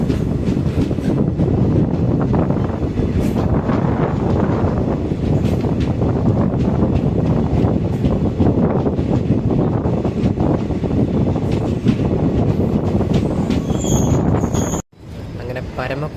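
The extended Amritha Express from Thiruvananthapuram rumbles steadily along the line toward Paramakudi, a loud, continuous clatter of carriages with wind rush, cutting briefly near the end, while a voice speaks faintly.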